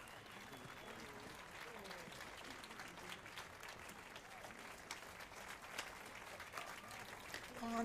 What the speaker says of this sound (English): Better clap.